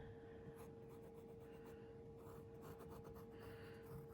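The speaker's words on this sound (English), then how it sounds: "I'm going to use the 4H pencil because it's a real light pencil. And I'm going to just soften that edge a little bit." A 4H pencil lightly shading and softening an edge on paper for fabric folds, a faint continuous scratchy graphite rasp with soft strokes against a steady low hum.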